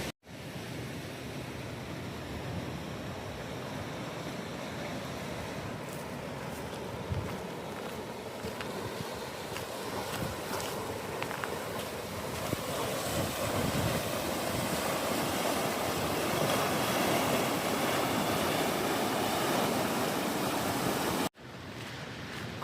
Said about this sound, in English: And the Rio Grande River is rapid right now.